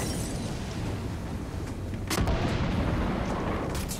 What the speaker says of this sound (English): I think I'm supposed to blow this up.